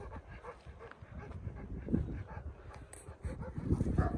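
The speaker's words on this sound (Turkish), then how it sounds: "özel bir köpek" A dog on the hilltop at Karahüyük whimpers and yips in short, soft bursts against a steady outdoor background rumble, with no speech.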